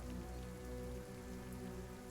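Steady, dense rain patters on a surface as a sound effect for a tabletop game session, moderately loud and constant over a low hum, with no speech.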